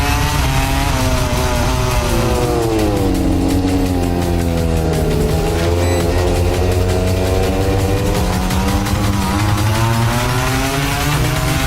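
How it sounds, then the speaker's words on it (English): MotoGP racing motorcycles leaving the start in Japan, a loud, dense howl of many high-revving engines with pitches rising and falling as the pack accelerates away, steady and continuous throughout. "It's lights out and we are racing in MotoGP here in Japan."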